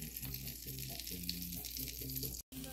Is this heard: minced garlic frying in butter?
yes